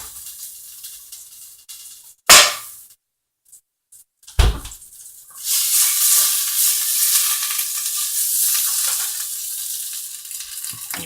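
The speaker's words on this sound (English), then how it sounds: "And you throw in the zucchini with onion. Saute it for a few minutes." Zucchini and onion dropped into a hot pan to sauté, a couple of sharp clatters and bumps followed by a broad steady sizzle that rises and holds, no talk.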